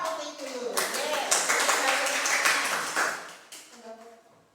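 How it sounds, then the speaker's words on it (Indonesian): A group in a training class claps for a team, a burst of applause that swells quickly, holds for a couple of seconds and then fades, with a voice speaking before and after. "boleh tepuk tangan buat kelompok putih dulu"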